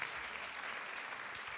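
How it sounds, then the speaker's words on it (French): An audience at an event-industry evening applauds contest candidates in Lyon, with dense, even clapping throughout a short burst. "qu'on applaudisse très fort tous ces candidats"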